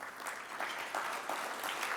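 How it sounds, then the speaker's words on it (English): Audience applause at a New York business breakfast: a steady, dense patter of many hands clapping throughout, fairly close and loud, with no voices over it. "I'll ask you to hold your applause to the end."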